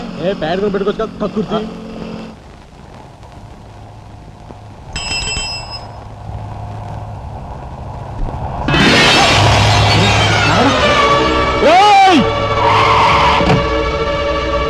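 A car drives past and its tyres skid loudly on the road, a rising screech with engine noise following a short spell of talk and a brief tonal bell-like sound; voices speak early on.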